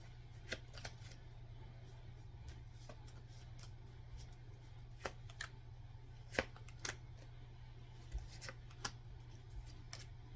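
Tarot cards being shuffled and drawn during a reading, soft scattered flicks and light card snaps over a low steady hum, faint and close with brief louder taps.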